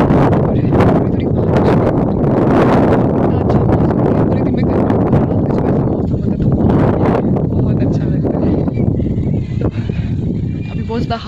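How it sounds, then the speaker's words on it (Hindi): Strong wind gusts across a rooftop at night, a loud, continuous broadband roar with rushing bursts, while someone talks over it throughout. "बहुत अच्छी हवा चल रही है"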